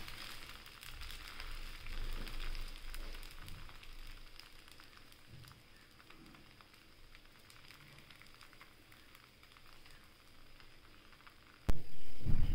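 A lentil (masoor dal) dosa fries on a pan with a soft, continuous crackle and sizzle, like light rain, ending in a sudden loud clatter near the close.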